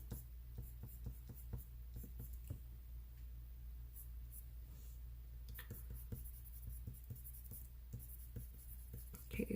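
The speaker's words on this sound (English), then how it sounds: "I'm just going to put a little pencil over that." A pencil shading over a Copic marker coloured drawing scratches softly in quick, irregular strokes, close and faint, with low background hum.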